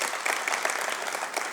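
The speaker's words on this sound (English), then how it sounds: "Applause." Brief burst of audience applause at the dedication of the Turning Point Suffragist Memorial, a fairly faint, even wash of many hands clapping at once.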